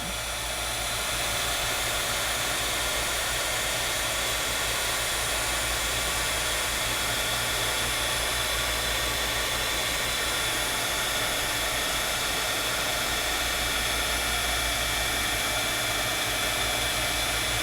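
A heat tool blows a loud, constant hot-air roar while melting embossing powder on a papercraft card, unbroken throughout.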